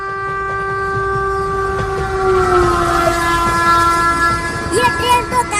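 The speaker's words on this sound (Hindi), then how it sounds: "वो देखो चिंटू, ट्रेन आ रही है।" A train pulls in, a loud sustained horn tone sliding slightly in pitch over rumbling wheels and rail clatter, with a brief voice near the end.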